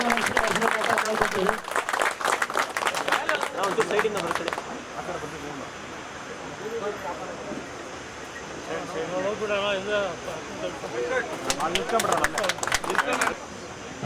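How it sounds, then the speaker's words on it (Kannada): A crowd at a police meeting with street vendors in Whitefield claps loudly in two bursts, at the start and again near the end, with people talking in between. "ಎಲ್ಲರೂ ಜೋರಾಗಿ ಚಪ್ಪಾಳೆ"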